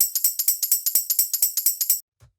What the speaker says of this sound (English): we have these two tambourines which sound like this